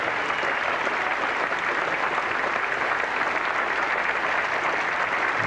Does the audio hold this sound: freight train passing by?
no